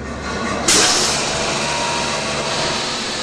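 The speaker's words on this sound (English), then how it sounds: "So at first we have to evacuate the toilet system. I can start this, it will get a little bit loud." An Airbus A380 vacuum toilet system being evacuated: a loud, steady rushing hiss kicks in after a low hum, continuing as a broad whooshing roar with no talking.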